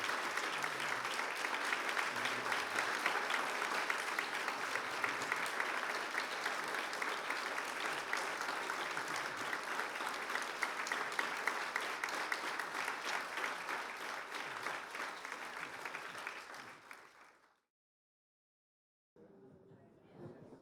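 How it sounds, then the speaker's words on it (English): Audience applause fills a large hall, dense and sustained for about seventeen seconds before breaking off into silence, then resuming faintly near the end. "Let's give them another round of applause"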